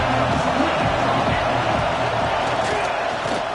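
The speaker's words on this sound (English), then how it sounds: "This crowd bringing the energy and noise early." Crowd noise at a college football game against Texas A&M, a loud, constant stadium roar with a commentator talking over it.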